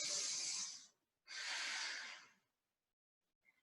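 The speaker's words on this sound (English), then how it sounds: "Breathing here." Two long, slow breaths during a yoga pose, each a soft airy exhale of about a second, close and quiet with a short pause between and near silence after.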